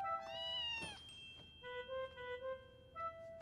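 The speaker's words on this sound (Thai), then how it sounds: "ว้าวแมวตัวนี้ขี้อ้อนซะด้วยนะครับ" A cat in a drama series gives soft, affectionate meows, several short chirping cries spread through the moment, quiet and close against a faint room background.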